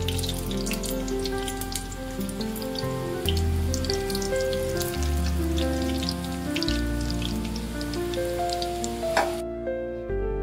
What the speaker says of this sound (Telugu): ఇక్కడ వేడి వేడి నూనె బాయిల్ అవుతుంది.